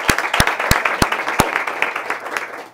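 Applause from a church congregation during Sunday Mass, with a few sharp individual claps standing out over a dense, steady patter of many hands, continuing evenly for a few seconds.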